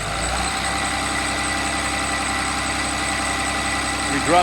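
A Cummins test engine runs on straight Hythanol at lowered RPM, a steady close diesel idle with even low rumble and vibration throughout, rising slightly at the very end, no talking.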